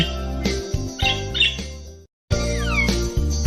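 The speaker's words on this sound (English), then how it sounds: "I hear the bird singing." A bright bird chirp and a swooping warble sound over soft background music, close and clear.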